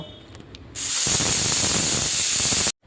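Pressure cooker venting a loud, steady rush of steam while biryani made with Dalda, salt and pineapple essence cooks inside, the hiss bursting on abruptly and cutting off sharply after about two seconds.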